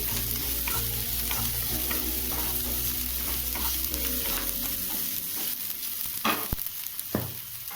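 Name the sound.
onions frying in a pan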